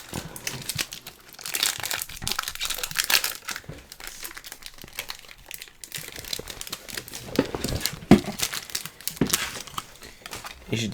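Foil Pokémon Lost Origin booster pack wrappers crinkle and tear in near, continuous bursts as packs are opened one after another, with brief pauses between handling.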